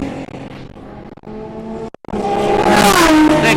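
A small BMW race car drives a track in a supercar qualifying session, its engine note dropping briefly before rising into a loud, sustained rev as it accelerates close by.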